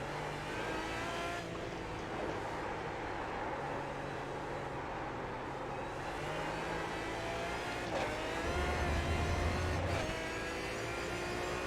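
An Aston Martin DBR9 GT race car in iRacing at Silverstone runs its engine at full revs, a steady, high-pitched sustained drone with shifting pitch, loud and unbroken, no voices.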